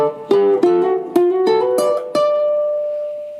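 A ukulele plays a song's solo as a quick run of about seven distinct plucked notes. The last note rings out and fades. No talking.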